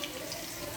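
Running tap water splashes steadily over moringa leaves being washed in a sink, a short continuous close rush.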